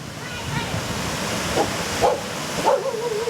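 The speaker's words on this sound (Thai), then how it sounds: "หมาเห็นไหมได้ยินเสียงหมาไหม" A dog barks a few times at a distance, short sharp yelps over a constant rush of water from a nearby waterfall.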